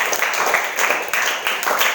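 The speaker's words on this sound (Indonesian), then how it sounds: "Tepuk tangan juga, itu Inkanas tuh." Applause at an Inkanas karate gathering: a crowd clapping steadily with dense, rapid claps and brief dips in intensity, fairly loud and close, with no talking over it.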